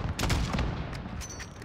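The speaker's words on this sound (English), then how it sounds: "Oh. Mortars!" Heavy mortar impacts in the Call of Duty: Modern Warfare campaign, a loud, booming cluster of blasts and crackling fire in quick succession, filling a short burst of intense combat noise.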